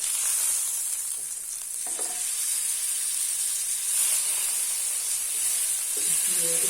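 Mutton chops sizzle on a hot grill, a steady, loud, close hiss and crackle that fills the whole stretch without pause, with a few faint clinks in the background.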